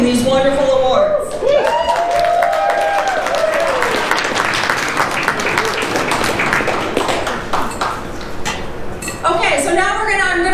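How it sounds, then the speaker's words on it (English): Audience at a haunted attraction tour panel breaks into loud, sustained applause and clapping that fills the room, with voices and cheering mixed in and a speaker talking over the start. "To give a round of applause to Michael Shaley and Ghost Ride Productions for providing these wonderful awards"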